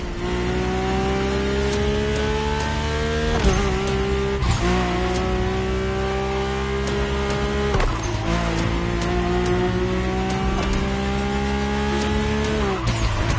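Mercedes-AMG One hypercar racing in The Crew Motorfest, a loud continuous engine drone with gear shifts and sharp rev drops around four and eight seconds, tire noise layered in, no talk.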